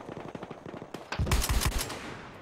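A gun fires in Battlefield Hardline multiplayer. A few separate shots are followed by a fast, loud burst of automatic fire that rolls on for about a second before it fades out.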